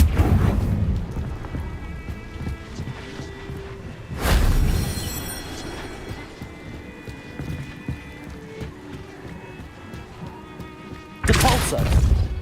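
A Confringo spell in Hogwarts Legacy goes off as two loud explosive bursts, one at about four seconds and another near the end, over a rumbling, busy game background with no talk.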